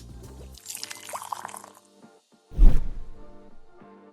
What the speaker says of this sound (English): adding hot water to the base of the Moka Pot just below the safety valve